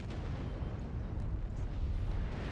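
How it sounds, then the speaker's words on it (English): Missiles from an enemy mech in MechWarrior Online pound in as a rumbling barrage of low booms and bursts, dense and continuous, at moderate volume. "the missile fire is coming from some mech that's in D7 that managed to sneak behind us"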